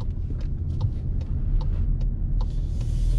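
Volkswagen Polo GTS 1.4 engine, tuned for more power, held under full throttle, giving a deep steady low rumble with faint clicks above, heard close from inside the car without talk.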